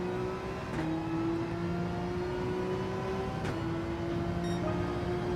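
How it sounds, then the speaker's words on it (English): A Porsche race car engine in a racing video game accelerates hard downhill, holding a loud, steady rising whine broken by two quick gear shifts. "Gotta use all the Porsche power down this hill."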